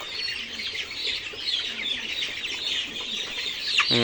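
Chickens on a poultry farm cluck and chatter continuously at moderate distance, a dense flock sound with no talking.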